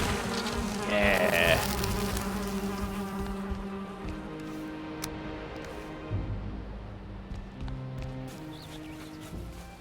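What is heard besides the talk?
bees buzzing in beehive house, video game Valheim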